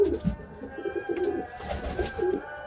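Caged pet birds cooing in short, low repeated calls close to the microphone, a few soft overlapping phrases with no talking.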